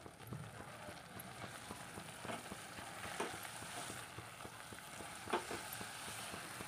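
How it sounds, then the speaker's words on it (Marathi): Chopped fenugreek leaves fry over a high gas flame while being stirred steadily, a soft continuous sizzle with faint scraping strokes, quiet and close with no talking. "आता गॅसची फ्लेम मोठी करून भाजीला एकसारखं हलवत राहायचं"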